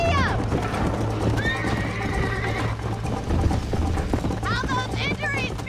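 Horse galloping with rhythmic clip-clop hooves and sharp whinnies in the Red Dead Redemption video game, loud and close, with voices and shouting over the ride.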